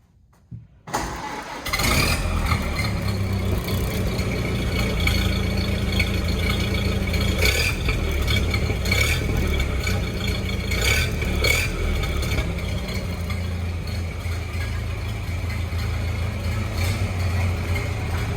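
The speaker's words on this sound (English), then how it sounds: "We're gonna do a warm start up, so you wanna go ahead and start her up?" A warm 1931 Ford Model A Tudor Sedan engine cranks and catches after a moment of near silence, then settles into a steady, close idle punctuated by a few sharper blips of throttle.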